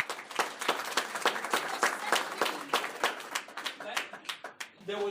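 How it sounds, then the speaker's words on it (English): Scattered, moderately loud clapping from a small group, with distinct individual claps at an uneven pace that thin out toward the end as a voice briefly starts speaking. "Give her a round of applause"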